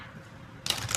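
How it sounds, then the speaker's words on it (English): Tarot cards being shuffled by hand, a brief close burst of papery riffling that starts abruptly after near silence and runs to the end. "One last shuffle."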